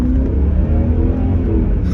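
A V8 car rumbles steadily from inside the cabin while driving, a low, continuous drone with no talk over it.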